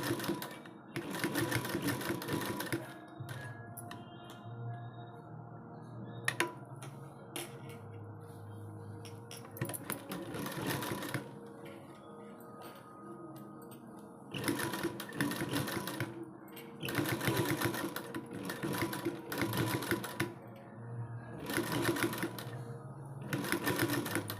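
Domestic sewing machine stitching fabric for Krishna Mukunda style sleeves, running in several bursts of steady rapid whirring with brief pauses between, close and clear with no talk.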